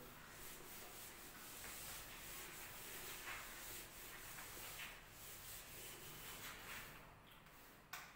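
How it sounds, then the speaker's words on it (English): Rubbing a classroom board clean with a duster, a continuous scratchy friction sound with small swells of strokes, fairly faint and close, with no talking. "So I just rub the board here."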